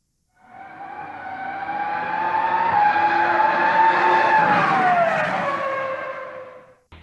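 Race cars in the F1 2011 game at the Monaco Grand Prix, a loud, sustained engine whine that swells, holds with a slight rise and fall in pitch, then fades away over about seven seconds.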